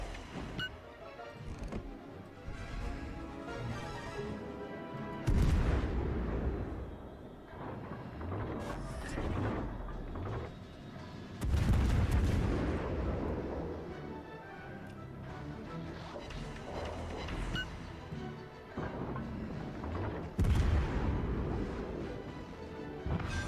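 Naval guns booming in World of Warships: Legends as a Pensacola-class cruiser fires on an enemy ship, with heavy low thumps recurring every few seconds over a steady bed of game sound and music.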